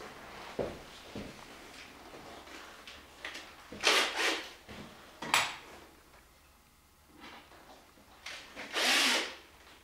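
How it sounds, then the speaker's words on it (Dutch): Small power drill boring a pilot hole for a screw while building a DIY graveyard statue, several short separate bursts close by with quiet handling noise between them. "Toch ga ik hier nu een gaatje boren, schroef je erin, zodat hij goed op zijn plek zit."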